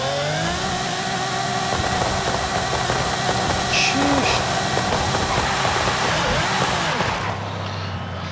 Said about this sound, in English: Crazy sounding engine.